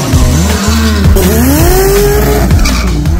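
A truck on a road in St Lucia revs hard with loud, close tire squeal. The engine note rises and falls under a sustained screech, with no talking.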